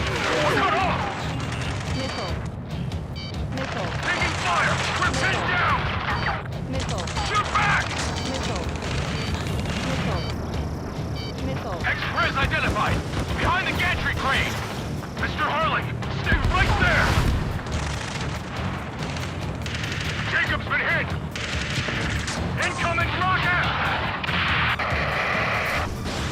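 Combat in the video game Ace Combat 7 brings dense gunfire bursts, booming missile explosions and crashes, loud and continuous, with radio voices talking over the battle.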